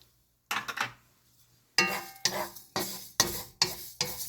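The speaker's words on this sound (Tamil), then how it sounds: "கடைசி எள்ளு வறுத்துடுறேன்" Sesame seeds being dry-roasted in a pan for idli podi: a few loud, rhythmic scraping sweeps of a spoon through the seeds, each with a gritty rattle, close and alone.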